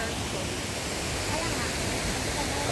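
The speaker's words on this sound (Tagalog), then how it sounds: "yung pinakatuktok ng pinaka-falls niya" A waterfall in Cebu roars in a loud, unbroken rush of falling water, filling the whole space evenly from close by.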